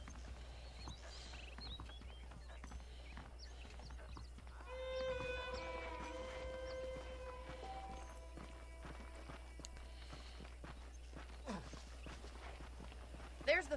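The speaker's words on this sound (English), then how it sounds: "The horses are saddled up over here." Horse hooves clip-clop at a steady walking pace in the video game Red Dead Redemption, quiet and moderately close, under a low background hum while a character speaks.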